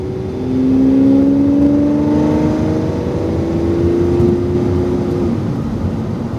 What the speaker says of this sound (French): Sors large à droite et tu reprends l'accélérateur.